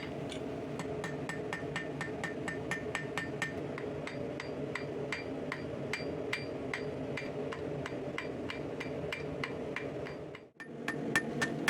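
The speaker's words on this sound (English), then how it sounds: "Going to be using the side and the face of the anvil in order to just taper them" A hammer strikes hot metal on an anvil's face and side, tapering it, in a fast, steady rhythm of sharp ringing blows, close by, pausing briefly near the end before resuming.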